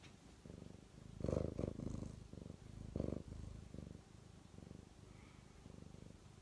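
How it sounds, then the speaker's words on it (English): A cat purrs up close in a steady rhythmic rumble, with louder pulses and quieter breaths between them and no talk. "She's purring."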